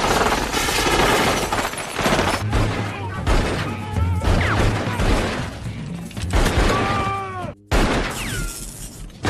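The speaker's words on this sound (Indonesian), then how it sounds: "Dan akhirnya terjadilah tembak-tembakan antara mereka." A gunfight shootout from the action film Desperado: dense, continuous bursts of gunfire mixed with crashing, shattering impacts and shouting, loud and chaotic throughout, with a brief dropout near the end.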